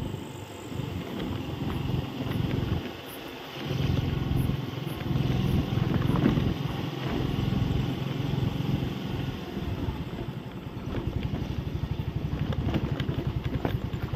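A motorcycle engine with a fault idles and revs nearby, its uneven running turning into a rapid, steady rattling toward the end.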